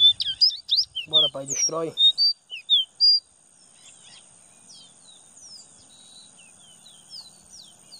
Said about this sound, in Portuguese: O grego tá cantando bem pertinho dele ali na frente